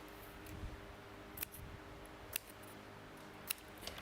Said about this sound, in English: Let me grab my little scissors.